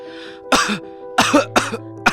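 A man coughs several times in short, harsh bursts, close and fairly loud, with a faint steady hum running underneath.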